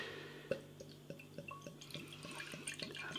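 M&S Winter Spiced Porter poured from a bottle into a glass, starting with a clink, then a run of gurgling, glugging liquid sounds with a faint fizzing layer above.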